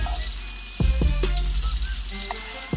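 Bacon fries in its own rendered fat for an Irish breakfast, a close, even sizzle broken by sharp pops and spits.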